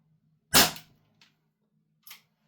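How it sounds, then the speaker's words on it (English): A RWA X Ares Korth Sky Marshall CO2 airsoft revolver fires one sharp, loud shot, followed by a faint tick and a softer second report about a second and a half later. "I'm trying to shoot it further away."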